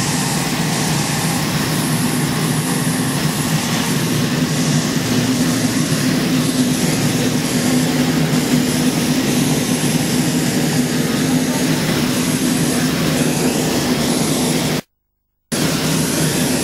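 Airliner engine drone heard inside the cabin, a loud steady roar with a low hum that continues without change and cuts out briefly near the end.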